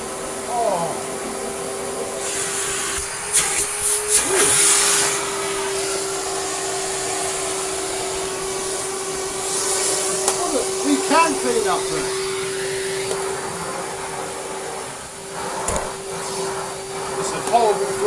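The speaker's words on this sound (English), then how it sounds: "So we'll plug it in and see if it turns on." A Hitachi CV-50D upright vacuum cleaner runs with a steady motor hum and whine throughout, with brief bumps and handling noises and some speech over it.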